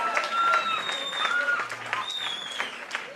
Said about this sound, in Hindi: एक बार जोरदार ताली होना चाहिए, फास्टर एंड लाउडर